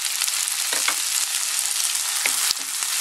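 Tomatoes hit a hot frying pan in a sardine and broccoli sauté, setting off a loud steady sizzle with a few scrapes of stirring.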